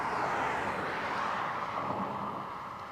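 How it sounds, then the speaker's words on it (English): A British Airways jet departs Barcelona El Prat airport, heard as a distant, steady engine roar in the background that slowly fades over a few seconds. "Sound in the background is a BA departure, BA Baracus."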